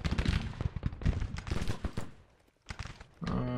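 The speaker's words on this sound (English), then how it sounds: "They are firing now." Civil War guns firing in the strategy game Grand Tactician: scattered sharp reports and rattling volleys at moderate distance, fading to a lull before a few more shots and a rising tonal sound at the end.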